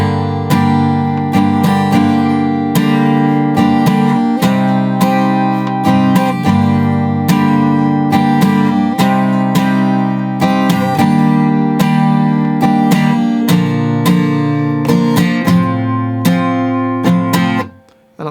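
Acoustic guitar strumming through the chord line of a song at a slow practice tempo, steady down-up chord strokes ringing continuously for about seventeen seconds before cutting off, played alone without talk.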